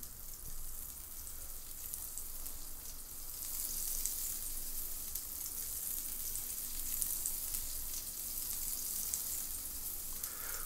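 A rumpsteak sears in a hot pan after being flipped to grill its other side, producing a constant soft hiss of sizzling fat that holds steady throughout.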